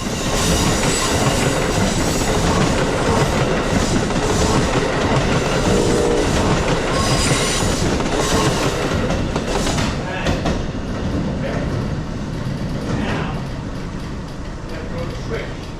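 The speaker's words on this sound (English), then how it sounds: "After 164 was Amtrak Regional Train 149 on track 3." An Amtrak Regional passenger train rolls past close by at South Norwalk station, loud and steady, with rhythmic clickety-clack of wheels over rail joints and occasional metallic squeals.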